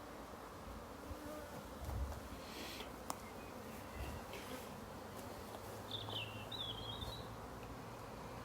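Bees fly in front of their hive, making a soft, continuous buzzing drone of many insects. It stays faint and steady throughout, with a few brief bird chirps in the background.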